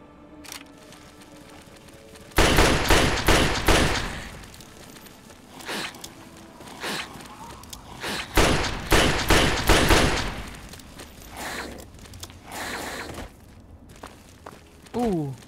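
Chinese assault rifle in Fallout 3 fires in loud, rapid bursts, several strings of automatic shots broken by short pauses and footsteps.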